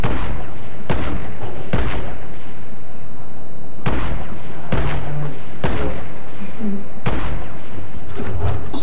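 Loud, sharp video-game gunshots crack out one at a time at irregular intervals, about eight in all, over a constant noisy background.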